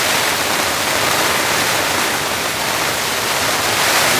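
Heavy storm rain pounds on a large camping tent in a dense, steady roar of hissing drops that stays loud and unbroken throughout, with no voices.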